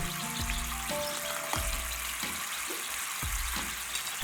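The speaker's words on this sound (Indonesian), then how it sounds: "Setelah terlihat gelembung kecil pada air, menandakan saus air telah mendidih." Sauce for Hong Kong-style steamed fish bubbling steadily in a pan, a soft continuous sizzle with faint pops and clicks, no voices.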